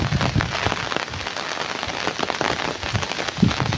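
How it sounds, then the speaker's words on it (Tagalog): Heavy rain from Typhoon Kristine pours down steadily in the Philippines, a loud, dense, close hiss of drops drumming on surfaces with occasional heavier splats, and no voices are heard. "Ay oh, malakas pa rin ang ulan. May kasamang hangin."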